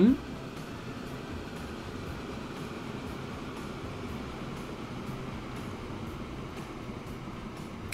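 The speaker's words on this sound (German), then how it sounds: "Jetzt kommt der Zug." A train arriving in the video game Transport Fever, heard as a steady mechanical rumble and hum that holds evenly throughout after a brief vocal sound at the start.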